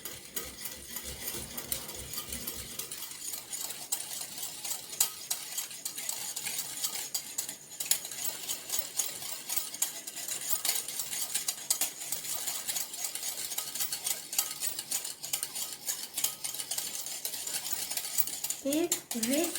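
A spoon or whisk beating coffee and sugar into a cappuccino mixture, continuous quick scraping and clicking against a cup, steady and close with no voices.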